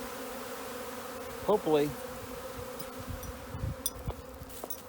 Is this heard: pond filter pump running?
no